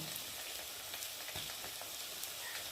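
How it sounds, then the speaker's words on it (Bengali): Potatoes frying in a pan until reddish-brown, a quiet steady sizzle broken by a few soft scraping stirs, heard close with no voices. "আলুটা বেশ লাল লাল করে ভেজে নিয়েছি"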